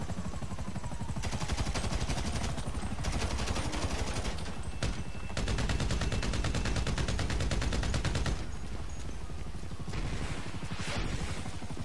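Gunfire in Grand Theft Auto 5: long stretches of rapid automatic shots rattle on loudly and almost without pause, broken by brief gaps.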